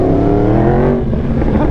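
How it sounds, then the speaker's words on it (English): A large dirt bike engine roars past on the road, loud and close with a strong droning tone that shifts in pitch as it goes by, heard without talk. "Oh, it's a big ass dirt bike."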